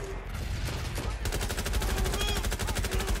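Rapid automatic gunfire in the online game Watch Dogs Legion, a dense continuous burst of repeated shots lasting throughout, loud and close, over a low rumbling game soundscape.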